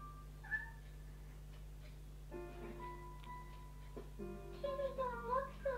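A hungry-sounding cat in a video game gives several plaintive meows, rising and wavering, over a constant low hum, with game tones and faint voices nearby.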